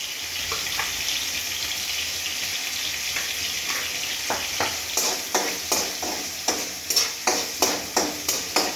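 Cumin and mustard seeds sizzle and crackle in hot oil on a home stove, a steady frying hiss broken by a series of sharp popping bursts that grow more frequent toward the end, with no talking.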